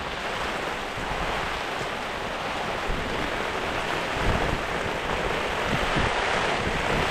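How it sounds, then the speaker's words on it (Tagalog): Strong wind roars and buffets continuously as a dense, close rush of noise, steady in loudness with occasional gusts. "Malakas na yung hangin"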